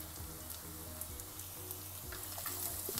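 Finely chopped ginger and garlic sauté in hot oil in a pan for mutton curry, a steady close sizzle with small crackles and occasional stirring clicks throughout.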